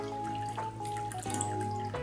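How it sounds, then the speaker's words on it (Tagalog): A water tank refilling as its pump motor runs, with steady pouring and filling water over a constant motor hum, close and continuous with no talk. "So, magre-refill ngayon yung tangke. Kasi nabuhay po yung motor niya."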